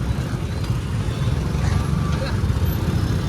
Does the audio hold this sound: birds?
no